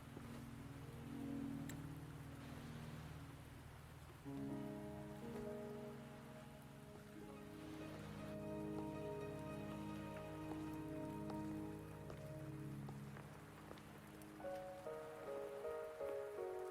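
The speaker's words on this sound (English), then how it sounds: "Are you trapped here by the rain?" Steady rain falling in a Wuthering Waves game scene, a constant wash of drops beneath layered sustained musical tones, no talking.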